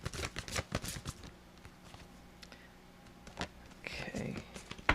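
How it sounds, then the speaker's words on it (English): A deck of angel cards is shuffled by hand in quick bursts of riffling and flicking at the start and end, close to the listener, with a quiet pause between and a soft voice nearby. "Let me just shuffle these cards one more time."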